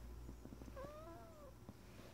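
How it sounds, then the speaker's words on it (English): A single drawn-out cat meow, soft and fairly close, rising then falling over about a second, set against a low, steady background hum in a quiet room. "This is my cat not wanting to get up."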